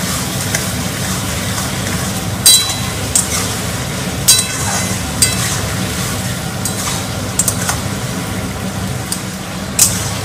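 Chilli chicken is stirred in a hot pan, with a steady sizzle underneath and sharp metallic clinks of the spoon against the pan at irregular intervals, close and fairly loud.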